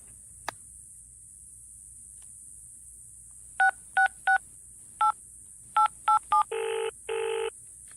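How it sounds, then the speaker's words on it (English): A flip phone dials, a series of short keypad tones in quick clusters followed by two longer beeps, crisp and close over a faint high-pitched hiss. "let me call Shane."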